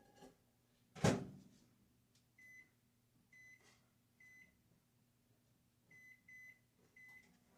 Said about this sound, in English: Let me put this in the microwave